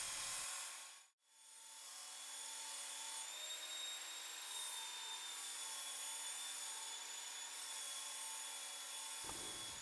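A Ken Onion Mk2 sharpener's coarse P120 grit belt grinds a blade in a steady, thin whirring hum with a high whine, quiet and continuous after a brief break near the start, with no talking.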